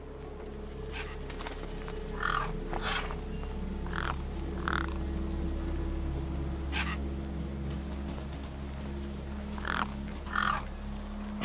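Gang birds in the video game Beyond A Steel Sky give repeated harsh crow-like caws in scattered bursts over a steady low ambient hum, with no talking.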